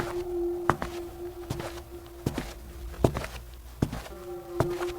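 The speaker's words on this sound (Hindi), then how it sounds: "उनके कदमों की आहट घबराहट की भावना से गूंज रही थी।" Sharp, evenly spaced footsteps echo through an empty haunted mansion at midnight, about seven clear steps over a steady low drone, with no voices.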